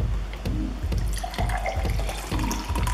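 Blended rice water being strained into a container, a steady close splashing, trickling pour with small gurgles and drips throughout, no voices.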